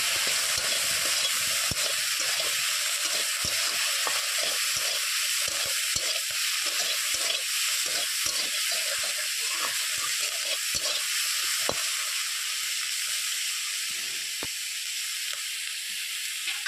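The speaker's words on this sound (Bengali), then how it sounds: "স্বাদ মতো লবণ ও পরিমাণ মতো লঙ্কার গুঁড়ো দিয়ে ভালোভাবে পুঁইশাক মেচড়িটাকে কিছু সময় ভেজে নেব" Malabar spinach with salt and chili powder fries in a pan, giving a steady, bright sizzle with repeated quick stirring scrapes and taps, close and uninterrupted for over sixteen seconds.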